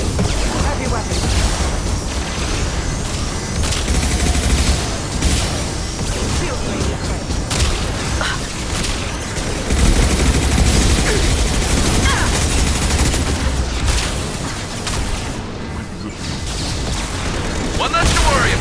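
Heavy weapon fire in Mass Effect 2's Lair of the Shadow Broker, with continuous loud barrages of booming blasts and rapid gunfire layered with crashes. The dense battle noise runs without pause throughout.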